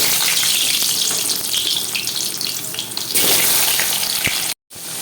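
Cut potatoes frying in hot oil: a loud, steady hiss and crackle that runs without a break, briefly cuts out near the end, then resumes.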